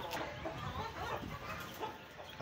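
Several chickens cluck softly and repeatedly nearby, short throaty calls overlapping in an irregular rhythm over a faint background.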